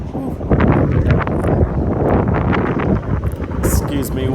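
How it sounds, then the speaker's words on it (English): Gusty wind buffets the microphone on a sunny, warm Boston city street, producing a loud, continuous low rumble with uneven surges throughout. "A little bit windy today, but sunny and warm."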